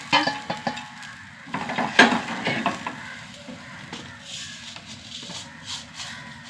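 Plantain pieces fry in a pan with spices, giving a steady low sizzle under a few clinks and stirring scrapes of a utensil against the pan, brief and close, with no talk.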